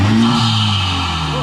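A Honda Civic Type R with a PRL intake revs briefly, a loud, close engine note that rises and then settles back toward idle.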